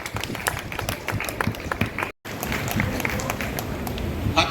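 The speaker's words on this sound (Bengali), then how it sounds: "হাততালি হাততালি" Audience applause at the Kolkata Press Club 80th anniversary event, a dense, continuous round of clapping from a crowd, broken by a brief cut midway.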